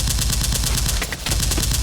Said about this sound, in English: That was random gunfire.